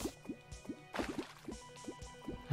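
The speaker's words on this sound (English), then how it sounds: "Oh, some water's dropped down here." Water dripping down inside a Terraria underground area, a steady series of small wet plinks and squishy drops at irregular intervals, close and fairly quiet with no talk.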